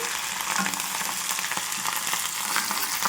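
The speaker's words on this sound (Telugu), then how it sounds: "మిగిలిన నూనెలో ఈ కరివేపాకుని చక్కగా అటు ఇటు తిప్పుకుంటూ దీన్ని కూడా ఫ్రై చేసుకోవాలి" Curry leaves fry in leftover oil in a pan while being stirred for a green chilli spice powder, producing a continuous dense hissing sizzle at close range with no voices.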